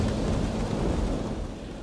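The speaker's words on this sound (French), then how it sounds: "terrible pluie de grêle s'abat alors sur le pays" Thunder rumbles heavily through a hailstorm in an animated series, a dense, loud, continuous roar of low booms and pelting noise with no voices.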